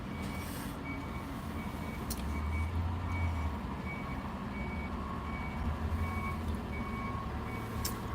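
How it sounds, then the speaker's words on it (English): Trucks come and go at a roadside coffee stop while a reversing beep sounds in a steady repeating pattern over a low engine rumble, with no talking. "All the trucks are coming in and out now."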